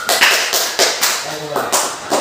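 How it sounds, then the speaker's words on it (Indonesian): Classmates clap for a student group in a school classroom, several short bursts of hand claps in an uneven rhythm, close and fairly loud, with voices speaking between them. "Silakan tepuk tangan untuk kelompok 2."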